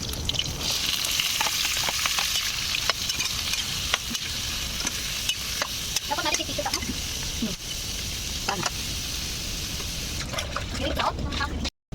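Vegetables frying in hot boiling oil, a steady broadband sizzle with stirring clatter and occasional utensil knocks, close and continuous with a voice briefly heard.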